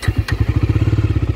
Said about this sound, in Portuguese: Deixa eu ligar a moto aqui